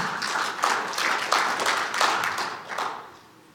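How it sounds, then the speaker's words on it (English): A conference audience gives a short burst of applause, many hands clapping together at moderate loudness for about three seconds before it fades out. "Just a little bit of applause for that."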